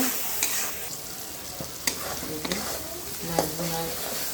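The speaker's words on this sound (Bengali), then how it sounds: "দিলাম হলুদ গুঁড়া মরিচ গুঁড়া ধনিয়া গুঁড়া স্বাদ মতো লবণ ভালো করে মশলাটা কষাই নিব" Masala with turmeric, chili and coriander powder and salt fries in a pan, a soft sizzle broken by spoon scrapes and clinks against the pan, close and moderately quiet.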